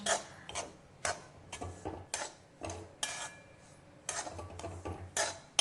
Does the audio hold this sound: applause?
no